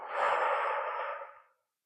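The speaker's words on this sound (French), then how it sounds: "Expire tout l'air." A single long, breathy exhalation pushing all the air out during a breathing exercise, close and steady for about a second and a half, then fading into silence.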